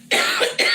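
Two quick, close, loud coughs from one person, the second following right after the first.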